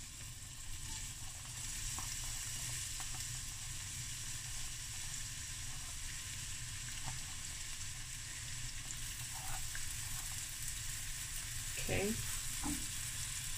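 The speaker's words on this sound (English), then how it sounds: "we have a couple of tablespoons of olive oil in my pan. I'm going to add 1 red onion." Thinly sliced red onion fries in a couple of tablespoons of olive oil in a pan, giving a steady, dense sizzle throughout with a few stirring scrapes near the end; a brief word is spoken.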